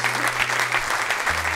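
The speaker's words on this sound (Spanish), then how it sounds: "Denle un gran aplauso al Señor." A church congregation claps together for the Lord in a brief burst of dense, even applause, loud and close, with no voices over it.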